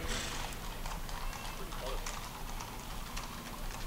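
Horses clop along the street in a western heritage parade, their hoofbeats a quiet, irregular clatter beneath steady talk from announcers.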